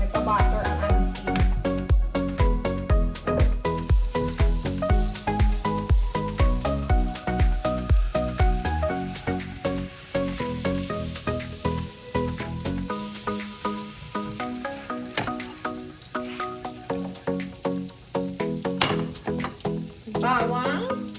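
Butter fries in a pan with a steady sizzling hiss under loud background music.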